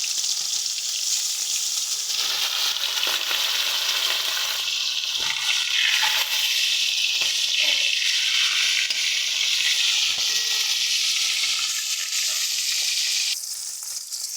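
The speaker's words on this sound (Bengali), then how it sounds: "দেখো, তেল আমাদের গরম হয়ে গেছে। এক এক করে মাছগুলো দিয়ে ভেজে নেব।" Pomfret fish frying in hot oil, with a steady, dense sizzle and crackle that continues unbroken at close range and no voices over it.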